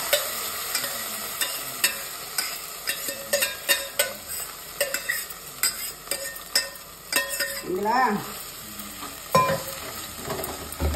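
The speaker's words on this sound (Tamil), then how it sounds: "இப்ப பாருங்க, கீரை போடுறோம் பாருங்க." Spinach greens hit a hot frying pan and sizzle softly while a utensil stirs and scrapes in quick, irregular strokes close by.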